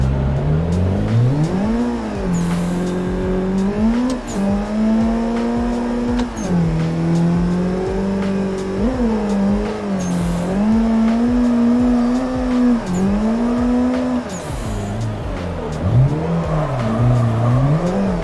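A race car's engine in a racing video game rises and falls in pitch as it drives laps, shifting and braking into corners in a loud, continuous drone that runs alone throughout.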